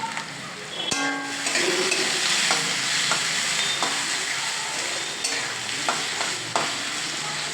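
Food sizzles and fries in a pan while being stirred, a steady loud crackle with repeated scraping strokes and a sharp clank near the start, with no talk over it.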